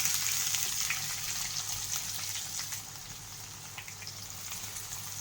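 Chopped onion dropped into hot oil with peanuts in a frying pan for a sprouted moth bean curry, giving a steady, loud crackling sizzle throughout with no talking.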